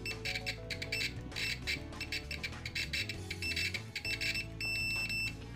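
A BTMETER BT-570C-APP clamp meter in continuity mode with its default stock probes gives a loud, steady electronic beep that stutters on and off in choppy bursts as the probes make scratchy contact, heard close and alone.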